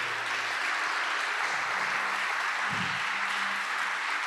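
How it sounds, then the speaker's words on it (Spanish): A church congregation claps loudly during a sermon, producing a steady, dense roar of many hands that holds evenly throughout, with a brief low thump partway through. "Le puedes dar palmas fuertes al Señor por esto"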